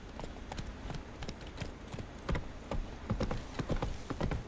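Hooves of Roach, the horse in The Witcher 3, clip-clop in a steady trotting rhythm, close and fairly loud, with no neigh standing out clearly over the gait.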